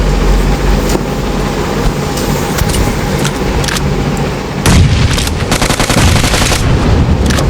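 Gunfire and grenade blasts in a BGMI mobile battle royale fight: loud rapid bursts of automatic fire rattle close by, joined by heavy booming explosions, with the shooting continuing almost without a break.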